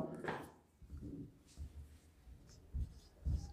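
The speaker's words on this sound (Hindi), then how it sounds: "तो इसको मैं यहाँ लिख रहा हूँ" Chalk or a marker taps and scratches on a board in short strokes, close by, while someone talks over it.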